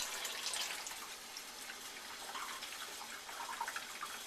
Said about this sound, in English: when the bottles are empty, we fill them full of water